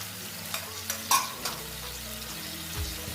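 A paste frying in a pan for a milk-paneer dish, giving a soft steady sizzle with a few light utensil knocks and scrapes, fairly quiet and close.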